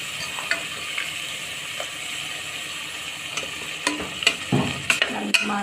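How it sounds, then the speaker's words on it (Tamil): Ground masala sautéing in oil for a sprouts gravy, a low steady sizzle with clinks and scrapes of a spoon that grow busier toward the end, no voices. "எண்ணெயில் வந்து ஒரு நிமிஷம் நல்லா வதக்கி கொடுத்துடலாம்"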